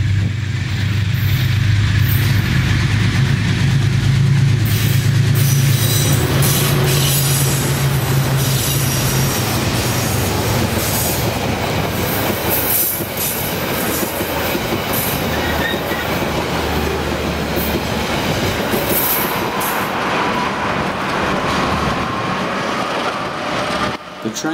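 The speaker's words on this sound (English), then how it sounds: "The train is seen here, pulling into Greymouth." The TranzAlpine Express runs on rails toward Greymouth, loud and close, with continuous rumble, wheel squeal and rhythmic clatter of the carriages over the track for the whole stretch.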